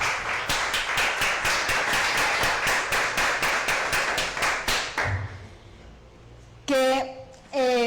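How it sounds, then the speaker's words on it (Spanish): A church congregation claps in a fast, regular rhythm for about five seconds, sharp unison hand claps that then stop, followed by quiet and a voice speaking briefly. "Un aplauso para Dios."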